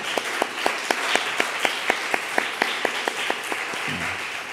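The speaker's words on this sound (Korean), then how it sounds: "우리 크게 박수 좀 쳐주겠습니다." A church youth congregation at a Sunday worship service in Seoul applauds in a steady, even rhythm of sharp claps over a wash of scattered clapping, fading out near the end.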